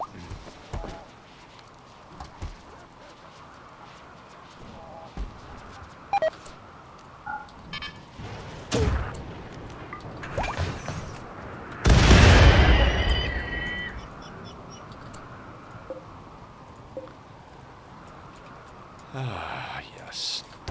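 Mortar fire in the colony game RimWorld: one loud boom with a decaying rush about midway, set among faint scattered game clicks and small effects.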